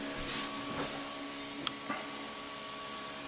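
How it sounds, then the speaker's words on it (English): Steady whirring hum of a 3D printer printing a part, with faint stepping tones and a couple of soft clicks, running quietly nearby. "Sorry about the noise. I've got the 3D printer is printing another part for R2."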